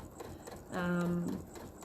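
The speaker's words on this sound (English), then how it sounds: "because I've got that feeding foot, I can really stitch right on the edge of this" A sewing machine with a feeding foot stitches right along the edge of quilt fabric in a brief, steady half-second run of humming stitches, with quiet room noise around it.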